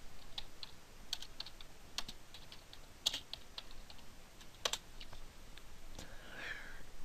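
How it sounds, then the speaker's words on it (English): Keys tapped on a computer keyboard in irregular bursts of close, crisp clicks over a faint background hiss, with a few louder strokes standing out. "then I'll type in"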